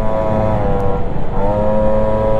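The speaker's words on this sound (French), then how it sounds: "c'est sûr qu'avec le carbu 17, c'est quand même moins silencieux qu'avec le carbu 15." A 50cc moped engine fitted with a 17 mm carburetor and an Airsal 45 kit runs close and loud, a steady buzzing idle that dips briefly then rises again, with a raspy intake note and no talking.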